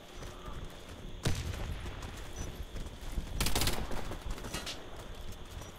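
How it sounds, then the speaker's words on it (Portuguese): Gunfire in the Warface shooter game, heard as two broadband bursts at about 1.3 and 3.5 seconds, the second one a longer rattling volley, over steady game ambience. "Tá atirando em mim, em cima da nossa base."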